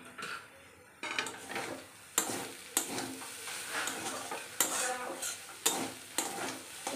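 Banana stem (thor) with moong dal fries in a pan over low heat, a soft steady sizzle broken by sharp scraping stirs and clinks of a utensil against the pan at irregular intervals.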